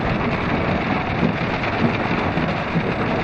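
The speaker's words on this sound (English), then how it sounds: "I don't think she knows what to do about all the rain." Heavy rain pours down in a steady, dense hiss that stays loud and unbroken throughout, with no voices over it.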